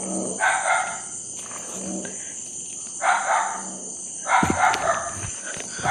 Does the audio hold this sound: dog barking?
yes